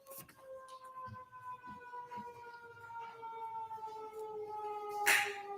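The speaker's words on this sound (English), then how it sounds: "I was just waiting for the siren." A distant siren holds a steady, slowly wavering tone throughout, with faint background clatter and a brief louder noise near the end.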